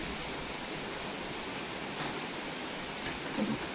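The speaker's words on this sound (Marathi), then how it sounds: "आणि खरोखरच बाहेर खूप पाऊस पडतोय" Steady, dense hiss of heavy rain falling outside, constant and even throughout, with no voices.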